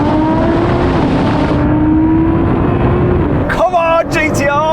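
Nissan GT-R with 700 hp accelerating hard in a drag race against a Lamborghini Performante and Cayenne Turbo GT, a loud steady engine drone with a gear-change dip, and a voice shouting over it.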